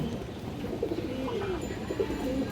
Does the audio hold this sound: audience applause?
no